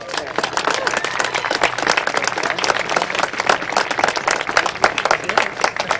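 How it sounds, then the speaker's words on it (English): Crowd applause at a speedway pre-race ceremony in Midvale, dense sustained clapping from a large outdoor audience, loud and continuous with no talk over it. "how about putting a big round of applause together for one of the founding fathers of Midvale Speedway, Mr. Bob Talati."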